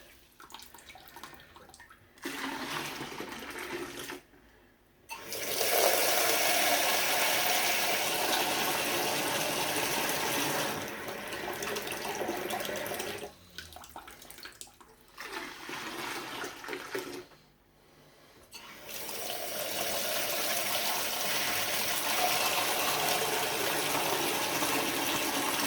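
Cold tap water runs steadily into a container, about 20 litres, in a Highlands home while brewing an English bitter, a loud continuous gush broken by a few short pauses where the flow stops.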